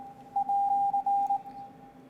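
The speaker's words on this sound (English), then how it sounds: "and plays the Morse code." A Royal Navy naval signal flags app plays a Morse code letter as a steady electronic beep, one long tone with short breaks broken into dashes and dots over about a second, clean and close with a faint hum underneath.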